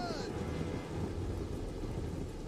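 Steady rain falls on a battlefield in the video game Total War: Rome II, a dense hiss that runs unbroken throughout, with voices and game sounds faintly over it at the start.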